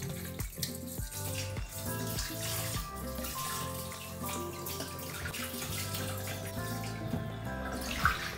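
Water runs steadily from a kitchen tap over rabbit meat being rinsed, with a constant splashing flow and faint clinks and shuffles throughout.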